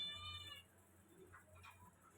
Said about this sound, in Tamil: இந்த பூனைக்குட்டி கத்திக்கினே இருக்கு,